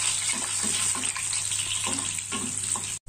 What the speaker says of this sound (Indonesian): Kemudian di bekas minyak yang sama kita tumis bawang putih.